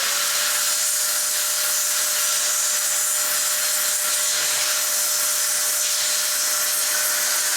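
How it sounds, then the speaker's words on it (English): A Data-Vac electric duster blows air over an iPhone 6 Plus logic board during touch IC repair, a steady loud hissing whoosh with a thin constant whine, continuous throughout with no talking. "So now I'm blowing off with the data vac."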